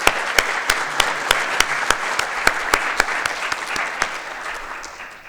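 Sparse audience clapping at a sustainability awards ceremony, a modest round of distinct claps with no talking over it.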